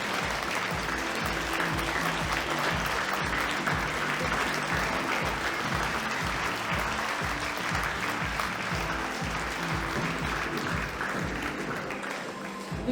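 Audience applause at a fashion show, sustained clapping from a crowd continuing evenly for over twelve seconds, with music faintly underneath and little voice activity.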